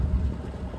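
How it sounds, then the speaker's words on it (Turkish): A 10-metre sailboat motoring into a direct headwind off Izmir, a low steady engine and wind rumble with buffeting on the microphone. "Rüzgar tam kafadan geliyor. Motorla gidiyoruz."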